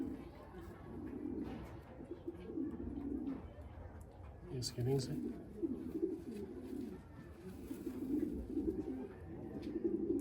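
Pigeons at a loft cooing repeatedly in low, rolling bursts, fairly close, with someone talking over them.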